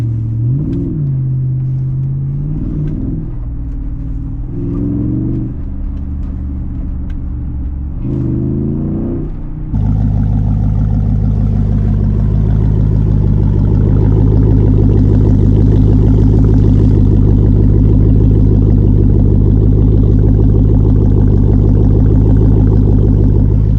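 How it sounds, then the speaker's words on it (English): A Jeep SRT8 with a Borla exhaust and mid muffler deleted idles with a deep burbling rumble and short blips, then settles into a loud, sustained high-rev drone, close to the tailpipe. "this exhaust sounds fire, though. It's because the Borla."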